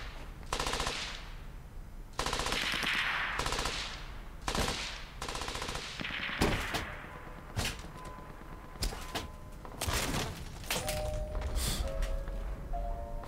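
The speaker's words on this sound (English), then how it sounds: "I need suppressing fire!" Suppressing fire in the video game Brothers in Arms: Hell's Highway: bursts of machine-gun fire and single gunshots crack repeatedly in irregular volleys, fairly loud and without talk.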